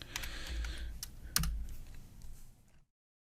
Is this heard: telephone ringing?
no